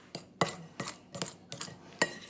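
Flour for meat pie pastry is mixed and cut in a bowl, giving six distinct scraping, clinking strokes at an uneven rhythm, close and fairly crisp, with no voices.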